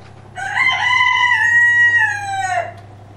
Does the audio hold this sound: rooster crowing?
yes